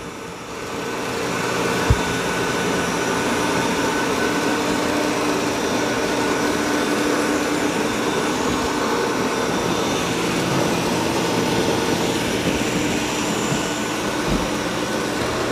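An ECOVACS DEEBOT X2 Omni robot vacuum and mop runs indoors with a steady, loud whirring motor drone that holds constant throughout, plus a couple of faint knocks and no voices.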